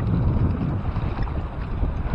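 Wind gusts across Lake Lavon against a fishing kayak, a steady blustery rush with low buffeting that stays loud and close for a couple of seconds with no voices.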